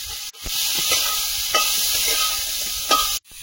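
Bottle gourd stalks with a little turmeric and salt sizzle in a pan and are turned over, giving a loud, steady hiss broken by brief stirring scrapes and two short pauses.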